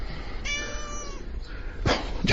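A cat meows in a drawn-out harmonic call indoors, followed by brief rustling bursts, with no talk over it.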